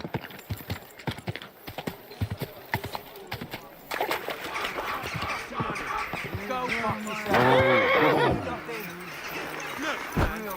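Steady hoofbeats clip-clopping, then a horse whinnies over continuing hooves in the video game Kingdom Come: Deliverance II, with a voice speaking alongside.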